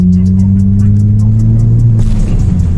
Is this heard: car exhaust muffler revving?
yes